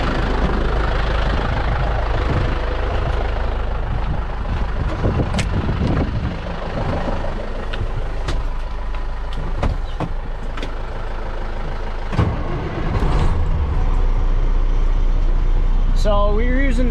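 A truck engine idles steadily, loud and close, driving a hydraulic fertilizer spreader through the truck's wet line, its low rumble continuous throughout with a few clanks and knocks, and a brief higher mechanical whine near the end.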